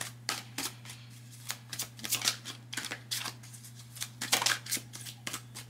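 Tarot cards are shuffled by hand for a reading, giving soft, close riffling and flicking bursts in an irregular rhythm over a steady low hum, with no talk.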